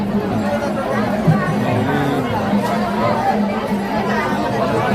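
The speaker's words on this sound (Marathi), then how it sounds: "खूप गर्दी आहे." A dense, steady babble of a large crowd of pilgrims along the palkhi route, many voices overlapping at close range with no single speaker standing out.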